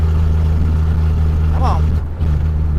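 A 1968 Plymouth Valiant engine laboring up a hill, a steady low drone heard from inside the car, with a brief rising whine partway through.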